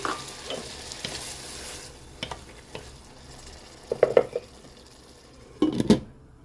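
Shrimp frying in a pan, a steady close sizzle broken by a few sharp stirring scrapes and spatula knocks, with louder bursts near the end.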